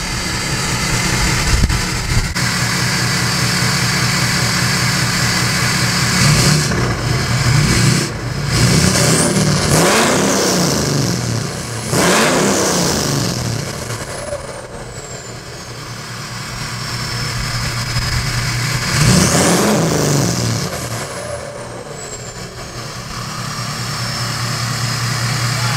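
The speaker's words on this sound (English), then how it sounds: "I'm gonna let her eat a little bit so you can hear how it sounds" Ford F250 pickup with an Alumiduty exhaust and a tuned engine, revved hard in several loud bursts that rise and fall over a steady idle, heard close and with no talk.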